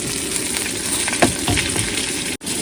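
Potatoes hiss and sizzle in hot oil in a pan, a steady close frying crackle with a few brief stirring clicks and a momentary cutout near the end.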